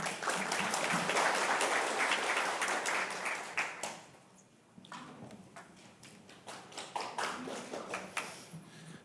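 A crowd at a panel discussion on digital piracy and copyright education applauds steadily, the clapping fading briefly before resuming in scattered, sharper claps.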